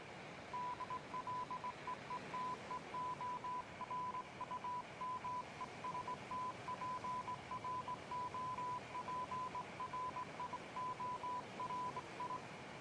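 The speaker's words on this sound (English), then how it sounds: "I will now repeat the process of listening to the phantom Morse" Phantom Morse code beeps from the video game Battlefield 1 pulse as a steady, faint, high tone in short and long bursts, repeating without pause over a quiet hiss.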